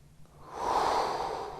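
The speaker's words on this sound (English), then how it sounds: "One more breath here." A single slow, deep breath drawn during a yoga pose in a men's yoga session, swelling into a soft, close, airy rush that holds for about a second.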